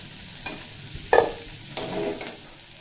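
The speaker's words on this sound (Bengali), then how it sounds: "এঁচড়গুলো খুব সুন্দরভাবে ভাজা হয়ে গেছে" Green jackfruit pieces fry in hot oil in a pan with a soft continuous sizzle, broken by two louder scraping bursts of stirring, with no voices.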